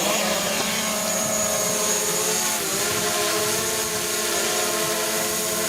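A DJI Mavic drone lifts off automatically and hovers close by, its propellers making a loud, steady, high whining buzz with a slight dip in pitch partway through, and no talking.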